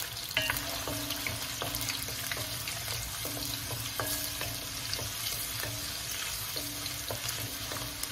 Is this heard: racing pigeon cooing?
no